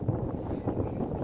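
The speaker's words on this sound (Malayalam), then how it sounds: "ഇവിടെ നല്ല കാറ്റാണ്, നമുക്ക് ഇവിടെ നിൽക്കാൻ പോലും പറ്റില്ല, അത്രയും നല്ല ഫോഴ്സിലാണ് കാറ്റ് വരുന്നത്" Strong wind gusting across an open hilltop overlooking Tamil Nadu, buffeting the microphone with a steady, close roar and no voices.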